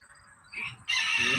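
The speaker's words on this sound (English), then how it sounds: "The rooster is hilarious." A rooster crowing, a rising call that grows louder and fills out into a bright, raspy crow near the end, heard close up and alone.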